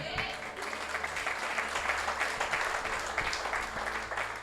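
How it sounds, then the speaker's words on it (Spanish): A church congregation applauds steadily and fairly loudly for several seconds in a dense, continuous wash of clapping, with faint voices mixed underneath. "Dele un aplauso."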